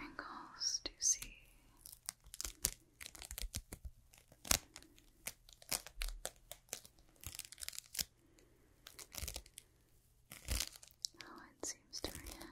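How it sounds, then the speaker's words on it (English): Crisp crinkling and tearing bursts of material come in irregular clusters, close to the ear, with soft whispering running beneath them in an ASMR-style examination. "Continue with more crinkles"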